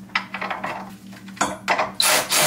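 Ratchet turning a 16mm bolt on a Teraflex HD tire carrier, a series of short clicking and grinding strokes up close, ending in a louder burst of rasping.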